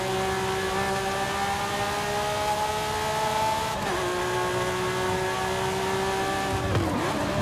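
A Lamborghini Sian Roadster races against supercars in Forza Horizon 5, its engine note climbing steadily through high revs with two sharp gear-shift dips, loud and close, with faint tire noise.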